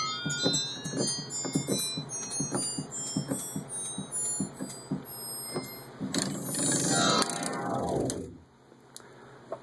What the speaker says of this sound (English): So that sound is inspired by a toy piano.